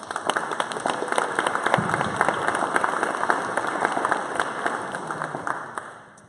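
A room of listeners at a startup pitch event gives a big round of applause, dense, even clapping sustained for several seconds before tapering off at the end.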